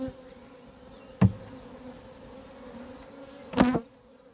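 Bees buzz quietly around a beehive on a cool spring day, with a faint steady hum and two brief louder buzzes as single bees pass close to the microphone, with no talk.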